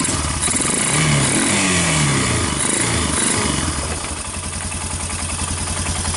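A Bear Tracker 250 ATV fitted with a PZ30 carburetor idles close by, a steady low mechanical chug with some clatter, slightly louder at first and then settling a little quieter.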